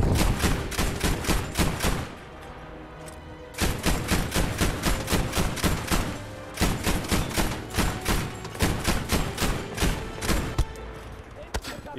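Flak cannon in Battlefield V multiplayer firing in rapid loud bursts of sharp repeated shots, with brief pauses between volleys and a voice talking over it.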